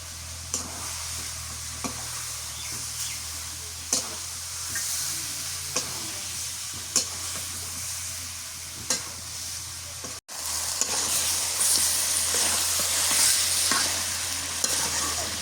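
Ground cumin, ginger and onion-garlic paste fry in oil with chicken pieces for a banana-flower curry, giving a continuous close sizzle broken by regular scraping stirs about once a second.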